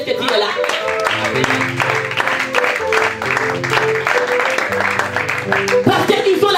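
A church congregation applauds loudly and continuously for several seconds during a service, with music and voices mixed underneath the dense wash of clapping.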